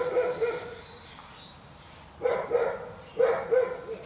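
A female dog barks indoors in short clusters: a few quick barks at the start, a pause, then two more bursts of sharp yapping later on, fairly close and moderately loud.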